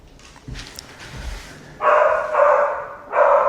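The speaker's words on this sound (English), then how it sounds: "So she's barking now" A dog barks loudly nearby in sustained, rough bursts after a quieter stretch of faint background noise.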